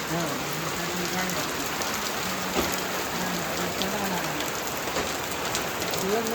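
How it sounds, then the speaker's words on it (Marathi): Steady rain pours down on a farm field and nearby surfaces in a constant close hiss, with a faint voice now and then beneath it. "पाऊस मस्त लागत आहे शेता"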